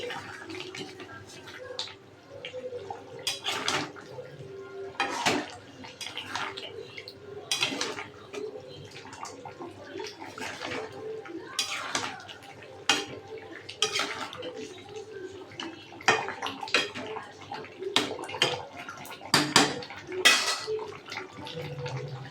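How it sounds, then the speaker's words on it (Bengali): A pot of meat curry is stirred, with repeated clanks and scrapes of a utensil against the pot and some wet, sloshy sounds, close and irregular over about twenty seconds. "এবার আমি এটা একটু নাড়িয়ে তারপর নামিয়ে নেব"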